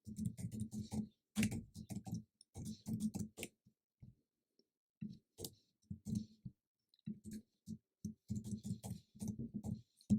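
Someone types code on a computer keyboard, with quick bursts of clicky keystrokes coming and going under a voice talking over them.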